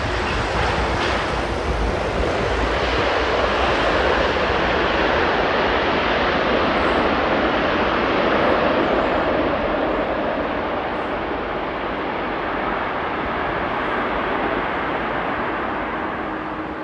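A Delta airliner landing at Heathrow airport, heard as a loud, sustained broadband jet roar that holds steady for the full stretch and eases slightly toward the end, with no voices.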